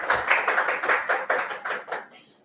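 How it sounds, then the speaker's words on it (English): Audience applause at a spoken-word event: a small group clapping in a rhythmic, evenly pulsing pattern at close range, fairly loud, then fading out quickly near the end with no voices. "Can I please have a huge round of applause?"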